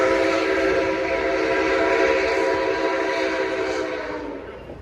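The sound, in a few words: Nickel Plate Road 765 steam locomotive running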